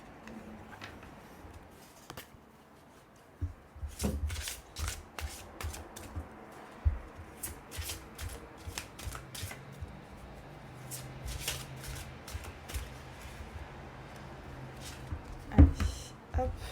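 Tarot cards are shuffled by hand for a three-card reading, giving repeated crisp riffles and slaps in irregular bursts with a few thumps, close with faint room noise.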